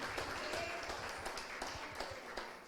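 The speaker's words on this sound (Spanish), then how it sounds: "Denle un aplauso al Señor" Congregation applauding in a church service, a steady wash of clapping hands running throughout at moderate distance, fairly quiet overall with a few faint voices mixed in.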